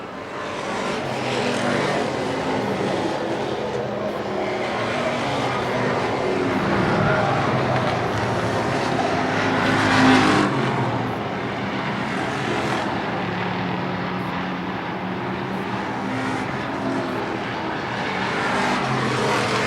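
Race cars from a Strictly Street racing event at Portland roar past in a steady, loud engine drone with a swelling pass around the midpoint, continuous throughout with no talk.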